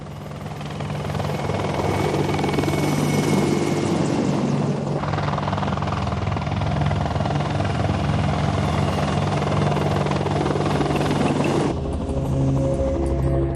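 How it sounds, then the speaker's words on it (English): Steady, loud rotor thump and engine roar from a low-flying Apache attack helicopter close by, sustained throughout as it passes low, with a brief shift in tone near the end. "Nap of the earth flying allows attack helicopters to literally sneak up on the enemy"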